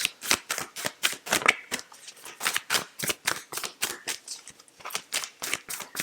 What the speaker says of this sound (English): Let's get a Yogic Path card out